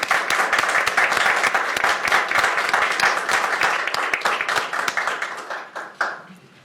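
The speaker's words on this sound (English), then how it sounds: "Can we give them a round of applause" Applause from attendees at a Pierce County Council special meeting, dense steady clapping from a room of people that thins and tapers off toward the end.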